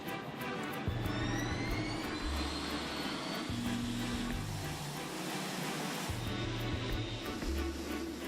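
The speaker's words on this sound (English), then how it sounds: "The 747-8 the newest and largest version of the company's iconic jumbo jet, is taking off for the first time." A Boeing 747-8 jumbo jet on its first takeoff gives a steady, distant jet-engine roar that swells and holds, with a low rumble and a faint whine above it.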